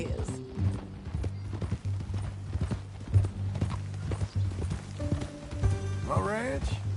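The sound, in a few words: horse hooves clip-clopping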